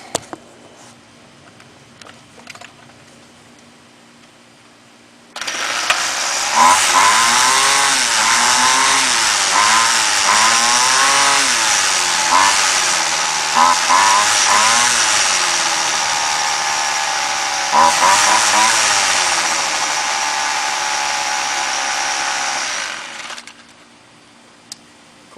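A Homelite gas string trimmer engine starts after a few quiet seconds of handling clicks. It then runs loudly and steadily for about eighteen seconds with a rough, revving buzz before cutting off.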